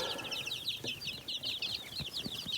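Several chickens cluck and chatter continuously at close range, a busy overlapping flock sound with no talking.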